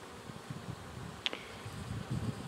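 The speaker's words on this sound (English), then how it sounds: "still look at the bees collecting the pollen" Faint, low buzzing of honey bees collecting pollen in early spring, close by but quiet, with a brief brighter chirp near the middle.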